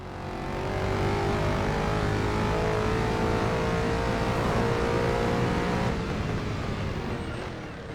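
Car engine in the arcade driving game Driver: San Francisco, a steady, loud drone of revving and speed that holds at one level for several seconds with no voices.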